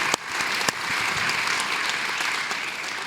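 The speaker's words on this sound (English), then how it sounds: "please give the presenters now a big hand for not only presenting, but also answering all the questions." An audience at a technical forum of a coin and money fair applauds the presenters, a steady wash of clapping from a room full of people, with a couple of sharper claps at the start.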